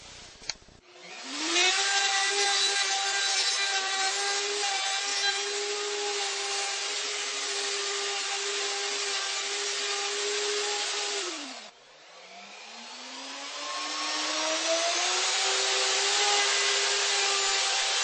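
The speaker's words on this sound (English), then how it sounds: "I'll just sand a little bit off here with a belt sander" A belt sander grinds down a wooden tenon template in one long steady whine, breaking off briefly near the end before ramping back up, loud and close with no talking.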